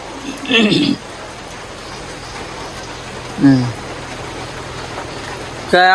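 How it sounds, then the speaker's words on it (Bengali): Heavy rain pours down in bright, hot sunshine as a steady, loud hiss. Short bursts of a nearby voice break in at the start, the middle and the end. "আকাশে পুরা খা খা করতেছে রোদ অথচ বৃষ্টি নামতেছে একবারে জোরে"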